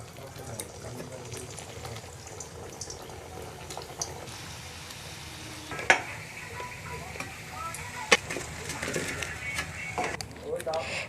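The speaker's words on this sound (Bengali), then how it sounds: "একইভাবে বাকিগুলো ভেজে নিচ্ছি।" Potato rolls frying in oil, a steady low sizzle with occasional louder crackles and pops, heard nearby with a voice talking over it.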